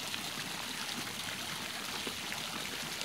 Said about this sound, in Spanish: en aquel chorrito, allá metete Gladys